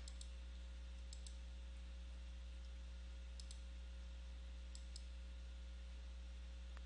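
A few sharp mouse clicks in quick pairs while using Maintenance Pro software, faint and close over a steady electrical hum with no talking.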